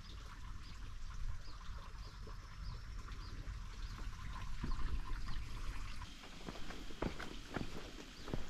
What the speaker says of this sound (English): just walking on these little wood platforms